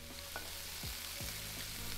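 Food simmers and sizzles in a pan in the Cooking Simulator game, a soft continuous crackling fry with faint low game tones sliding underneath.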